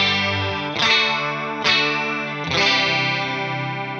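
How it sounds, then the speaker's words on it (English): Electric guitar on the bridge pickup through a Behringer UC200 Ultra Chorus pedal, three strummed chords with a sustained, shimmering, slightly distorted chorus wash, loud and close with no talking. "see if we can get the chorus sound to be really prominent in our ears"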